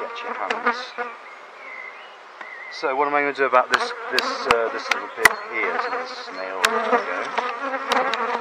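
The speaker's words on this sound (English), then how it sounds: "So bees coming up through that gap" Honeybees buzz around an old top bar hive left untouched for three years, a steady insect drone close by with sharp clicks and knocks of hive handling, while someone talks over it.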